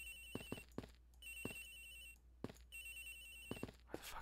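A cell phone in the Ace Attorney Investigations video game rings with repeated electronic trill bursts in a regular pattern, faint and alone with no talk.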